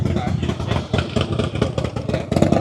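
Motorbikes rev and idle as they leave a car show, among them a Honda Ruckus scooter, the engine buzz loud and close with uneven throttle bursts while people talk nearby.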